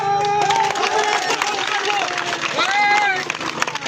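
A large crowd at a rally in Satkhira, protesting the harassment of three-wheeler drivers, makes loud, continuous noise, with clapping, cheering and raised voices blending into a steady roar.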